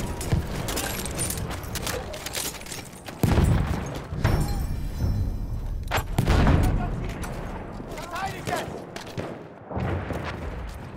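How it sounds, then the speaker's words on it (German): A grenade blows up in a Battlefield 1 Conquest battle, with two heavy booms standing out from dense gunfire and battlefield clatter. "Ich werf eine Granate, aufpassen!"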